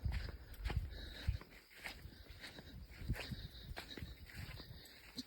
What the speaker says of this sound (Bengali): এখন পানির মধ্যে দিয়ে হাঁটবো